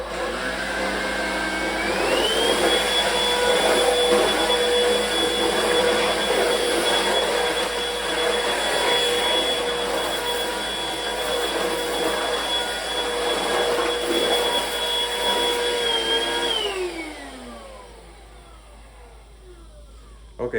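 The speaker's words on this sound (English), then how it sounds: "our vacuum is very loud, so it will not make a pleasant video" A loud household vacuum cleaner runs continuously indoors with a steady high whine and roaring airflow, then winds down as it is switched off near the end.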